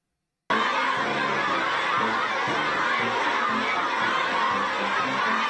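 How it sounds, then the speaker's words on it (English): Crowd of children cheering and shouting at an outdoor event, some waving little Chinese and American flags; a dense, continuous roar of voices and laughter, loud and sustained. "We get sound back when the children start cheering."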